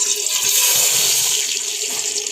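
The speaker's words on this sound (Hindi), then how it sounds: "इधर हो गया है हमारा घी गरम और इसमें हम डालेंगे चीनी।" Sugar poured into hot ghee for carrot murabba, a steady loud hissing sizzle that holds continuously throughout without speech.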